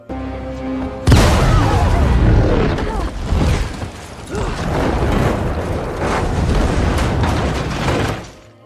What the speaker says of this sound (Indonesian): tiba-tiba ledakan besar pun terjadi